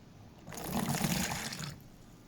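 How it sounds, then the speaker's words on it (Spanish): Water pours out of a tilted container in a surface-tension demonstration, a single close splashing gush that swells and cuts off after about a second. "Si presionamos, vemos cómo cae el agua."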